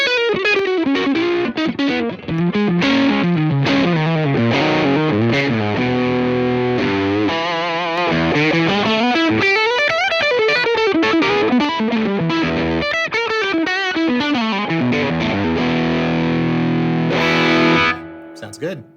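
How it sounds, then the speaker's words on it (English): Heavily distorted electric guitar through an MTG LA high-voltage tube distortion pedal plays a winding melodic line with bends and sustained notes, thick and saturated, ending abruptly. "It's a high voltage tube-based distortion pedal, has amp-like dynamics"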